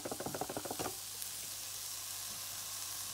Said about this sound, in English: I'm gonna place the ham and the onions in the pan